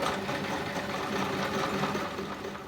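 A sewing machine runs steadily, back stitching a seam on T-shirt fabric for a cushion cover, a continuous close mechanical whir with no pauses or talk.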